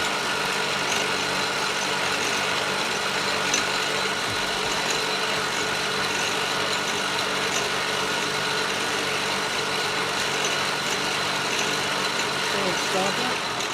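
An Atlas Clausing 4800 series 12-inch metal lathe runs steadily with a continuous mechanical hum and whir at a constant, moderately loud level throughout, with no pauses.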